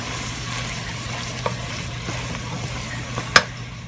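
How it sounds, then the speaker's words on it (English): Sausage and onions frying together in a soup pot, a steady close sizzle with soft stirring scrapes and a sharper utensil clink near the end. "I'm going to cook it until it softens a little bit and the sausage is done."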